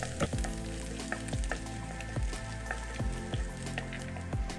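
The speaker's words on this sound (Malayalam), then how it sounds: "ഇനി നമുക്ക് ഇഞ്ചിയും വെളുത്തുള്ളിയും കൂടെ ഒന്ന് വഴറ്റിയെടുക്കാം" Ginger and garlic sauté in hot oil in a pan for poori masala, giving a steady crackling sizzle with occasional sharp pops and stirring clinks, close and alone.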